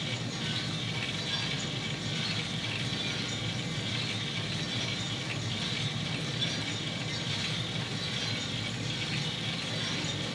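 A 1kg MCR coffee roaster drum turning steadily during a 100g sample roast, a continuous dense mechanical rumble and whir with faint rhythmic rattling, even and unbroken throughout.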